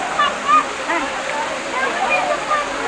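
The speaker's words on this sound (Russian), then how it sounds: "Вот, собственно, водопадик." A small waterfall at Amboli in the dry season gives a steady close rush of falling and splashing water, with faint voices of people nearby.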